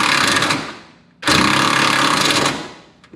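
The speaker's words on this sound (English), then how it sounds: "got the impact wrench, with the E20 inverted torque" An impact wrench with an E20 inverted Torx socket hammers at a thrust arm bolt on a Mercedes W211, two loud, close rattling bursts broken by a short pause as the tool spins down and starts again.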